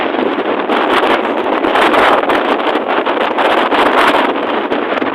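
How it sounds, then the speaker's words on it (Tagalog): A strong river current churns in a loud, continuous rush of water and breaking waves, buffeted by gusts of wind against the microphone, heard close with no voices. "Ang lalaki ng agos."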